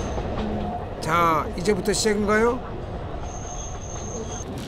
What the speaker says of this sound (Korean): 빽빽한 나무숲 사이로 달리는 아리산 삼림열차는 한층 운치를 더하는데요.